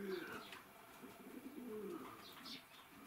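About two dozen pigeons coo together indoors in a winter loft, with soft overlapping low calls and occasional higher chirps forming a steady, close chorus.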